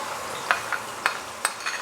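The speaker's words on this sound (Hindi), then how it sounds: "ये देखें ऑयल हमारा गर्म हो चुका है। अब मैं डालूँगी अदरक लहसुन पेस्ट" Ginger garlic paste dropped into hot oil, a steady close sizzle broken by several sharp spoon clinks and stirring scrapes, with no voices.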